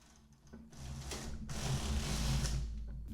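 A knitting machine carriage is pushed across all the needles to knit one row, giving a steady mechanical whirring rumble that builds and stays loud up close, with no talking.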